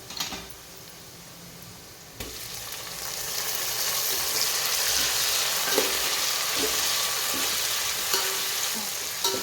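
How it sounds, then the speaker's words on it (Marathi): Tomatoes fry in oil after onions in a pan for chicken biryani, a quiet start followed by a louder, steady sizzle with occasional stirring taps, close and with no voices. "टोमॅटो पण छान भाजून घेऊया."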